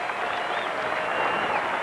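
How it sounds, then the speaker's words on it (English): Basketball arena crowd applauding at the United Center during an Arkansas Razorbacks vs. Illinois college game, a steady, dense wash of clapping and cheering that holds even and full throughout. "Darren Williams heads off to a rousing round of applause."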